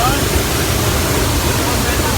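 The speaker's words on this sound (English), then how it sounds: "we're right under the waterfall" A waterfall in the Brecon Beacons, heard from right beneath it, gives a dense, loud, unbroken roar of falling water.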